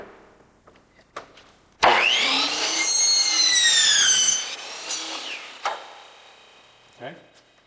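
A miter saw cuts through wooden crown molding, a loud whining buzz for a few seconds with the blade's pitch sweeping as it bites, bracketed by thumps and handling knocks; a person speaks briefly around it.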